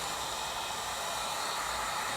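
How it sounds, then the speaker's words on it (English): Steady, loud rush of hot air from a heat gun drying leather, a constant broadband whoosh with no pauses. "we're using a heat gun"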